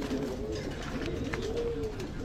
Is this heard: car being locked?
no